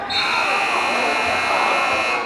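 A loud electronic buzzer blares continuously at a high school boys' basketball game, a harsh sustained tone filling the whole moment and dominating the gym noise.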